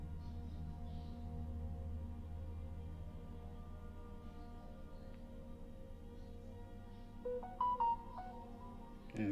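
A phone rings near the end as a short run of bright electronic tones, rising over a steady low room hum after several quiet seconds.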